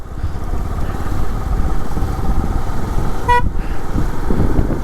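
Steady, close road traffic rumbles throughout a long traffic jam in Munnar, and one short car horn toots briefly near the end.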